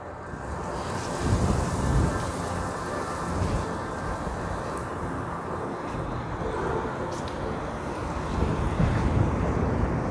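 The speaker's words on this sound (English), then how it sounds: "And holy crap, it's windy." Strong wind buffets the microphone outdoors in downtown Toronto in the evening, a constant roaring rumble swelling in gusts near the start and end, with no voices.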